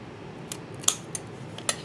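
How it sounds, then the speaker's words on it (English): Scissors snip through paper in several quick, crisp, close cuts spaced unevenly over a quiet background. "Let's snip off this side. And then we'll snip this side."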